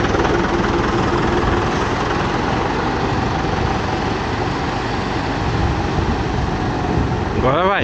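A steady, loud engine drones on throughout, like a tractor running nearby, with a brief spoken remark near the end.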